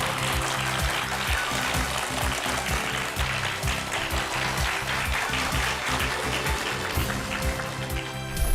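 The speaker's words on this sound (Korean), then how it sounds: "큰 박수로 맞아주시죠." Audience applause at a YTN lecture event as a speaker from a high-end strategy institute is welcomed onstage: sustained, dense clapping from a large crowd, loud and steady throughout with no talk over it.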